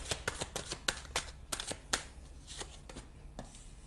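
Oracle cards shuffled by hand in a run of quick, crisp riffling bursts with short pauses between them, close and fairly quiet, with no talk.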